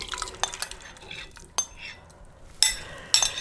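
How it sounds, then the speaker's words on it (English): Food dumped from a small vintage pot into a bigger metal pot, with a few scattered clinks and scrapes of metal and utensils, close and fairly quiet. "I'm just gonna dump this into my bigger pot."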